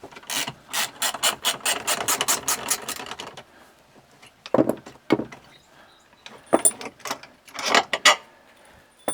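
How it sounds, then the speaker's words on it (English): Bolts come out of a tractor loader valve with a rapid run of ratchet clicks, then a few scattered bursts of mechanical clacking and rattling, close by and with no voices. "we got to pull some bolts here. We'll get these two bolts out first."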